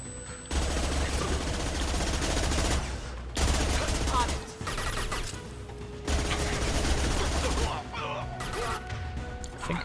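Sustained automatic gunfire in the video game Mass Effect 2, loud repeated bursts with brief pauses, mixed with game effects and talk from players over the shooting.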